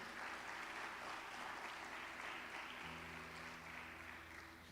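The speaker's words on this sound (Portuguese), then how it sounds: "Dá um aplauso para Jesus bem forte." Steady applause from a church congregation during a sermon fills the space, sustained clapping that fades slightly toward the end, with a low hum underneath.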